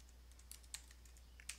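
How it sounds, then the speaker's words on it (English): A few sparse computer keyboard keystrokes as a terminal command is entered during Ubuntu 14.10 setup, soft clicks spaced irregularly over a quiet steady hum, close and faint. "we can do that by typing sudo apt get install Ubuntu"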